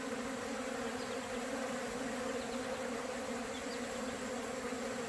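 Robbing bees swarming against a screen over a hive entrance, a dense steady buzzing hum of many bees, continuous and close, with no talking.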